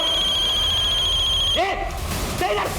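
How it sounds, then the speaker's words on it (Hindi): A steady electronic phone ring trills continuously, then cuts off as muffled voices and room noise take over. "किसका फोन बजा?"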